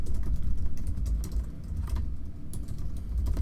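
Fast typing on a computer keyboard while filling in an email field of a web contact form, a rapid irregular stream of close key clicks with no talking.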